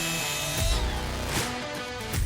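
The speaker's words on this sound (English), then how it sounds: "a forced rotation or a dual action polisher" Dual action polisher with a synthetic-blend wool pad working a boat's gelcoat surface, a loud close mechanical whir with rising and falling pitch sweeps as the pad passes over the hull.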